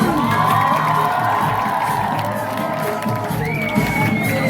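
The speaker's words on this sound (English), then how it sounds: "Give a big applause to them." A school audience at an Independence Day celebration for grades 6 to 11 cheers and shouts for performers, a loud, dense wash of crowd noise with excited whoops and children's voices throughout.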